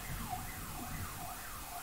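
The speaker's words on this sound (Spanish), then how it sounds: "No sé si se está metiendo en el audio la sirena de policía, pero a mí me está reventando." A police siren wails in Fortnite gameplay audio, a steady rising-and-falling sweep that repeats about once a second and sits loud and continuous through the whole stretch.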